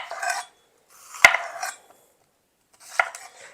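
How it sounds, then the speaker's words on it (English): A knife trims the edges off a bell pepper on a cutting board, giving a few separate bursts of cutting and board contact, including one sharp close knock, with quiet gaps between them. "The chopping is very simple. I literally just am taking off the edges of the bell pepper."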